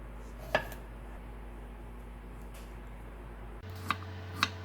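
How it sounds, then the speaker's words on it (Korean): A knife trims both ends off a cucumber on a cutting board, giving a few sharp, quiet taps: one single chop, then a pair of clicks close together a few seconds later, with a low hum underneath. "쓴맛이 나는 오이의 양쪽 끝부분은 잘라주고"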